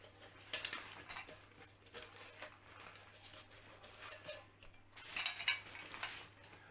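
Metal camping cook pot being handled and shifted about, with light clinks and scraping clatters in scattered bursts, closest and busiest near the end, over a quiet background.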